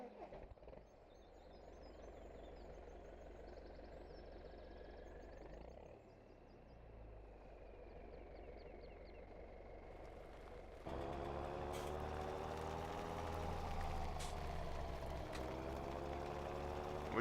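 A John Deere tractor engine in Farming Simulator 17 runs steadily at idle, then grows louder and rougher near the end, with some talk over it.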